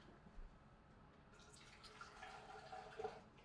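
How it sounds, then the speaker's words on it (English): Water drips and trickles as excess water is poured out of a houseplant's basin, faint and close, starting softly and growing into scattered splashes and drips with no talking. "So there's so much water in here still. I'm gonna pour some out."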